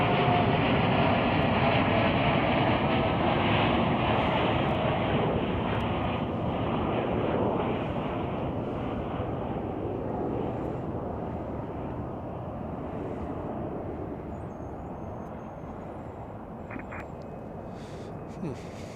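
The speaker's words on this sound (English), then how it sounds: "United Airlines Flight 953 headed to Munich. It is a 787 Dreamliner." A United Airlines Boeing 787 Dreamliner departing Chicago O'Hare for Munich, a powerful broad jet roar that is loud at first and slowly fades as it recedes into the distance.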